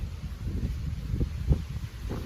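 Low rumbling buffets of wind hit the microphone steadily at a waterside spot, with a few stronger gusts thumping through; no voices.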